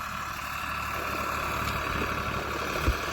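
A tractor engine runs steadily during groundnut sowing on a farm, a continuous moderate mechanical drone throughout, with a faint bump near the end.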